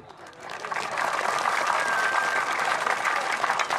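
An audience at a public lecture event claps together, a dense steady wash of applause that swells within the first second and holds loud and continuous to the end.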